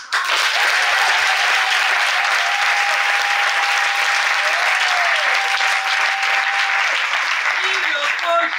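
A congregation claps at a prayer meeting, sustained dense applause from many hands that stays loud and even throughout, with a faint held tone running beneath it.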